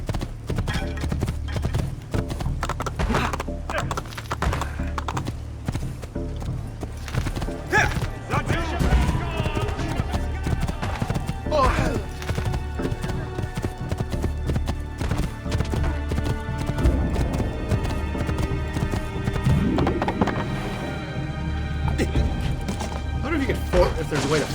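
A horse gallops in Assassin's Creed 3 with rapid rhythmic hoof clip-clops, occasional neighs and thumps over game sounds, and someone talks over it.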